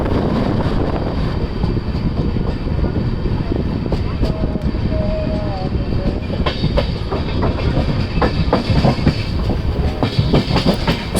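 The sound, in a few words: Azimabad Express passenger train running on rails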